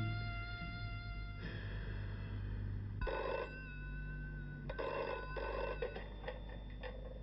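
An old household telephone bell rings in repeated bursts across a quiet room, each ring fairly close but low in level, with short pauses between rings and no voices.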